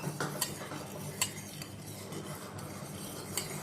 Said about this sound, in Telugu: కలపాలి, మెల్ట్ అయిన తర్వాత కలుపు.